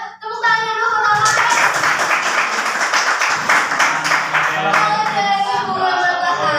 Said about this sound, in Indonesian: Tepuk tangan dulu ke Mama.